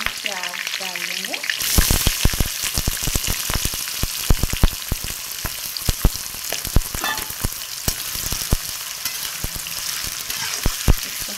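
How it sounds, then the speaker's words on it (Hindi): Whole spices, chili and onion frying in hot oil for chicken curry: a loud, continuous sizzle with sharp crackles and pops, beginning after a brief quieter moment, with no talking. "तो अभी हम फ्राई कर लेंगे।"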